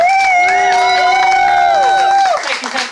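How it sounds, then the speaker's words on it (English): Live show audience lets out loud, sustained whooping and cheering, several voices holding high sliding tones over a crowd murmur, with scattered clapping as the cheers break off near the end. "You may applaud."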